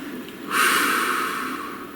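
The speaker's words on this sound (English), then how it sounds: "Please take a nice deep breath." A single deep inhalation through the nose, a close, airy breath that swells for about a second and a half before trailing off.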